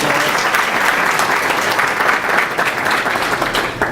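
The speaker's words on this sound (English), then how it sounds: "Please give her a round of applause." Loud, sustained applause fills a business forum room as the school superintendent is welcomed, dense clapping from many hands holding steady throughout.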